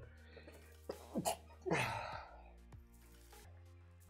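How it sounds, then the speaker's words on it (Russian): A single loud sneeze with a sharp inhaled buildup, close to the microphone and alone, fading into quiet background hum. "Ой, как, как чихнул, что думал, что глаза повылетают"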